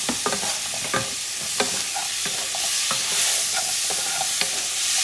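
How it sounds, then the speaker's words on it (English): Shrimp dip mixture with vegetables being stirred in a bowl, giving repeated scraping and clattering strokes at an uneven rhythm, close and fairly loud with no talking. "Okay, mixing things up."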